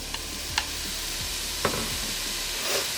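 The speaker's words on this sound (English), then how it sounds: "we will put our ground beef into our Dutch oven," Ground beef browning in a hot Dutch oven, a continuous close sizzle broken by a few sharp scrapes and knocks of stirring, with no talking.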